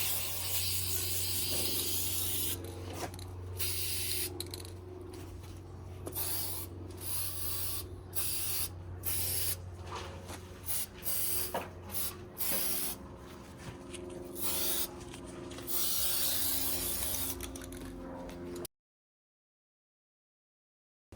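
An aerosol can sprays a second coat of paint onto the brake calipers of a V6 Camaro, in many short and long hissing bursts with brief pauses, close by, before the sound cuts to silence.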